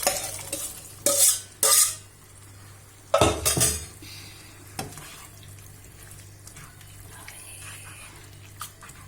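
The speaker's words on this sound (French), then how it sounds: "Dans la gravy, j'ajoute les pois chiches." Chickpeas tipped into a pan of Indian curry gravy, sounding as a few sharp clatters and scraping stirs of a spoon against the pan, then quieter stirring over a low steady hum.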